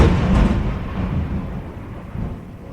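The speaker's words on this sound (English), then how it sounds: "that is a hell of a storm" Loud thunderstorm with a heavy rumble of thunder at the start, then rolling thunder and steady rain continuing underneath.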